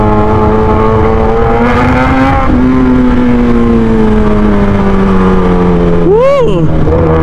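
A big bike motorcycle engine revs loud and close in a tonal roar that sags slowly, then snaps into a sharp rising blip near the end, the bike among a group gathered for a riding event.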